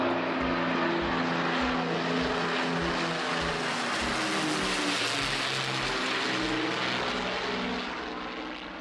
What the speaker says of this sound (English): there's a magnificent Spitfire flying along